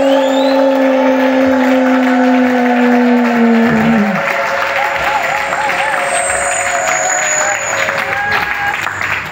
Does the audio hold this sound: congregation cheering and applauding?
yes